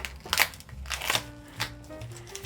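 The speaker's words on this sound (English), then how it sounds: "we're gonna unwrap the first fillet" Crinkly plastic or paper wrapping being pulled open from around a raw salmon fillet in a home kitchen: close, irregular rustles and crackles in short bursts.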